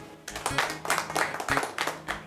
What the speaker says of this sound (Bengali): হাততালি জোরে দেন।